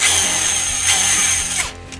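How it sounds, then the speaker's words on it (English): A power drill spins a small bit through painted metal to bore a pilot hole for a mini bike build, a steady close whine that holds for most of the stretch before winding down near the end. "screw up all the paint as I'm trying to drill through it"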